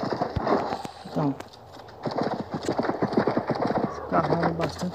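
Horse hooves clip-clop in a steady galloping rhythm in the video game Six Guns, with a brief whinny and game sounds mixed in while someone talks over it.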